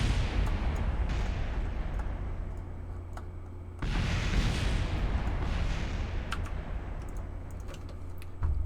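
A solid rocket booster blows apart in Kerbal Space Program: a steady low engine roar breaks into a sudden loud burst midway, followed by a rumbling roar that slowly fades, with scattered crackles on top.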